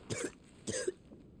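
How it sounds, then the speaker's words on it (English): A character in Final Fantasy XVI gives two sharp, raspy coughs a little over half a second apart, close and fairly quiet, with a faint breathy tail after the second. "He's got the anime cough"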